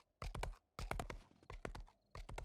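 Galloping hoofbeats of a horse ridden in the 7 Days to Die Wild West mod, quick clustered clip-clop bursts separated by short gaps, close and crisp with no speech.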